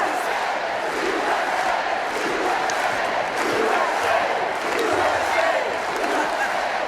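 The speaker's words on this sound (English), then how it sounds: "Got the crowd going." A crowd roars and chants in unison with rhythmic swells of voices. The chanting is loud and continuous and sounds like a rally crowd.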